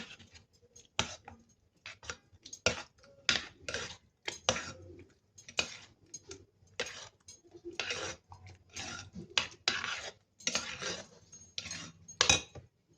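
Spinach stirred into mushroom sauce in a metal pot for spaghetti, a busy run of spoon scrapes and clinks against the pot in quick irregular bursts, close and fairly quiet, no voices.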